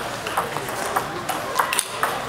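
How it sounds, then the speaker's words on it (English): Sharp, high-pitched pings of a table tennis ball off short pips rubber on a paddle, several quick hits spread across the moment with background crowd murmur, at a college women's singles semifinal. "the sound of those short pips, that high-pitched sound"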